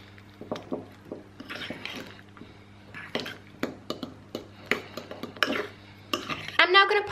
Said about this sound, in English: I'm going to pop in 2 heaped teaspoons and then just give it a good old stir.